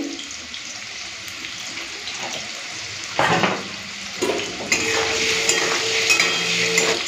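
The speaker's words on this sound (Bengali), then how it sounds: "এই দেখুন, ওই তেলের মধ্যে আলুটা ভেজে নেব।" Potato pieces frying in oil in a home kitchen, a continuous sizzle with stirring clatter and a burst of louder crackle midway, water running nearby toward the end.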